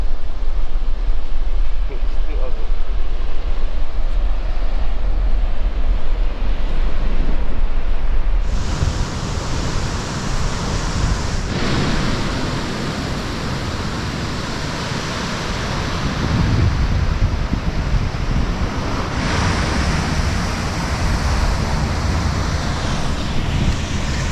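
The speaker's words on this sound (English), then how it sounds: "Checking out the waves again" Ocean waves wash onto a beach in the Gambia as a steady, broadband surf roar with gusty wind buffeting the microphone, growing fuller and louder partway through, with no talk over it.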